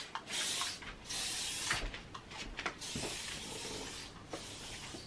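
An aerosol spray can being sprayed around a home during cleaning, giving several close, loud hissing bursts of varying length, one after another with short gaps.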